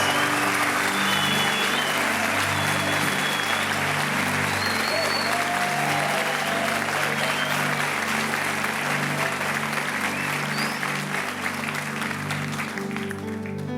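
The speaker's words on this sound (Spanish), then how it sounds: "te manda este aplauso poderoso" A church congregation in Puente Largo gives a powerful, sustained round of applause, thick continuous clapping over soft background music that runs steadily throughout.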